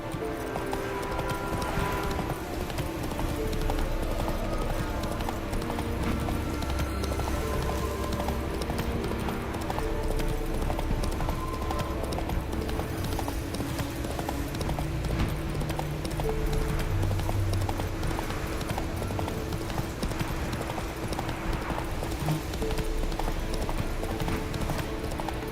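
Galloping hoofbeats of the horse in The Witcher video game, a steady rapid clip-clop that runs the whole way through, close and loud over a constant bed of game music and ambience, with an occasional whinny.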